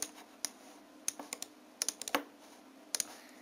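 Keys on a computer keyboard click in quiet, irregular bursts, with single taps and quick clusters of strokes over a low, hushed room background.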